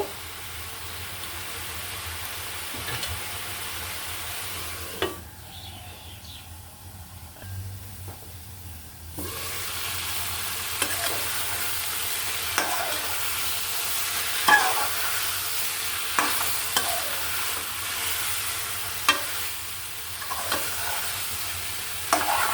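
A pan of bottle gourd, red lentil and potato curry sautéing, a soft continuous sizzle with occasional scrapes of a stirring spoon, briefly muffled partway through as if covered, no voices.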